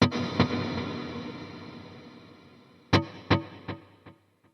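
Electric guitar delay through an HX Stomp: one distorted chord rings into a reverb-washed tail, then a drier chord is followed by three or four distinct echoing repeats that fade step by step, with no talking.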